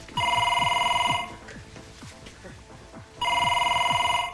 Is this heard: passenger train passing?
no